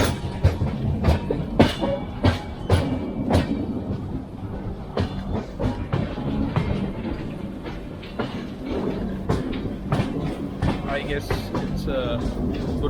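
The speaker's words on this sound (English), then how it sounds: "The train just started." Train pulling out of Chennai, its wheels clattering over rail joints in a steady rhythm of sharp clacks over a continuous rolling rumble, with occasional voices mixed in.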